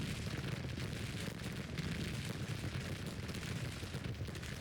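Cannon fire from artillery batteries in the strategy game Grand Tactician: The Civil War, a dense, low rumbling barrage of overlapping booms and distant blasts that rolls on continuously, quiet overall, no talk.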